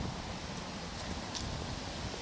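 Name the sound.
wind blowing outdoors in a cemetery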